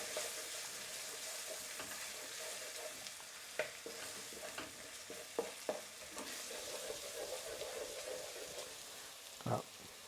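Ginger and garlic fry in hot oil with a soft, steady sizzle, punctuated by a few sharp spatters and stirring taps, close but quiet with no talking.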